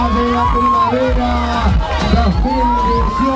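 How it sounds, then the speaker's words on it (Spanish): A crowd at a school spring festival's royalty election and float parade cheers and applauds the newly crowned spring queen, a loud steady hubbub with voices over the top throughout. "Fuerte aplauso para Paula, soberana de la primavera"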